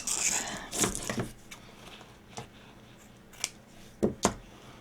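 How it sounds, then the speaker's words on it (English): Scissors snip through a piece of wooden-bead wreath craft material near a hot glue gun, giving several short, sharp cuts spaced across a quiet room, with a closing pair of quick snips. "Let me cut that piece off."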